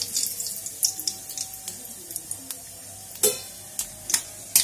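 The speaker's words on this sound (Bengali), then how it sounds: "একটু লাল হয়ে গেলে আমি তারপর এর মধ্যে একটু কালো জিরে 1 চিমটে মতন দিয়ে নেব।" A pinch of nigella seeds drops into hot reddened oil, crackling in a faint sizzle with sharp scattered pops and light clinks of stirring throughout, close and without talk.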